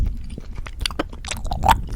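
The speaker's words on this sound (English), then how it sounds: "if you like ear to ear whispering with gum chewing and mouth sounds" Close whispered ASMR gum chewing with wet mouth sounds, soft smacks and clicks repeating through the clip, intimate and near with no clear speech.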